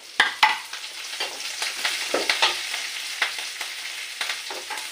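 Chopped green chilli frying in hot oil with garlic, giving a steady close sizzle broken by repeated light spatula scrapes and stirring clicks, with no voices.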